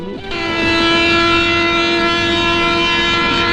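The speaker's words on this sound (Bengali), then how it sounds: "এই জলদি চল, ট্রেন ছেড়ে দিবে।" A train horn blares loud and close as a passenger train gets ready to depart, holding one long, steady note for several seconds over low rumbling station and track noise.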